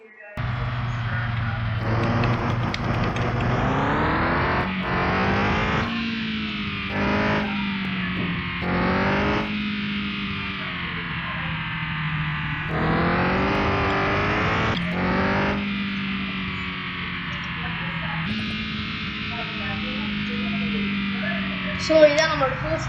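Engine of a drifting car in the online racing game Drift No Limit: a loud, continuous, buzzy drone that revs up and down in repeated sweeps and shifts, with a brief sharper burst near the end.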